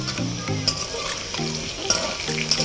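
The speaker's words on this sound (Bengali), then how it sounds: "আর একটু হলুদ দিয়ে ভেজে নেব।" Potatoes with salt and turmeric sizzle steadily in hot oil, with a constant crackling hiss and a few light clinks of a utensil against the pan.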